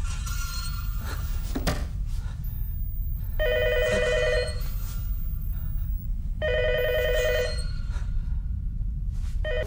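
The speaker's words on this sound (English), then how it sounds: "unless your phone starts ringing right about now" A telephone rings twice in long spaced bursts, each a bright electronic trill over a low rumbling background, with a sharp thump early on.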